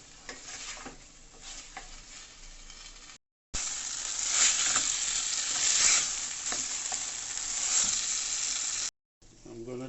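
Chicken breast stir-frying in a pan sizzles in a steady, bright hiss with scraping stirs, quieter at first, then louder after a brief cut, close up with no talking.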